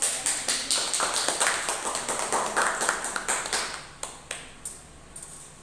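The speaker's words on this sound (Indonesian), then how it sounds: "Berikan aplaus kepada Naswa" Classroom applause for a student during a maths micro-teaching lesson, a brief burst of scattered claps from a small group that thins out and fades toward the end.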